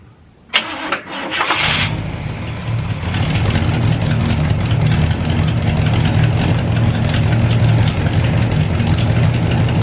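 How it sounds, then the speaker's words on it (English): A Catalina sailboat's inboard engine cranks briefly, catches and settles into a steady, loud idle with a low, even rumble that runs to the end without talk. "I'm gonna start it right now, and I'm gonna see how much better she is."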